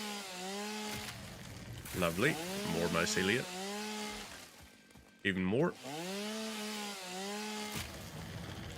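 Chainsaw cutting in an Xbox video game, a steady buzzing drone with a few brief louder bursts, running under someone talking throughout.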